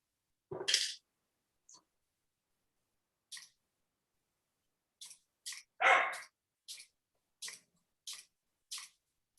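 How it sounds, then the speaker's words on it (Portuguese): A dog gives a couple of sharp, separate barks amid long silences, with small clicks and taps scattered between them in a quiet indoor room. "E esse cachorro é um cachorro ou uma cachorrinha?"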